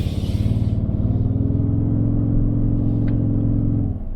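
A 2022 Toyota Tundra Platinum pickup accelerates uphill, its engine holding a steady, loud low drone from inside the cab with no talking.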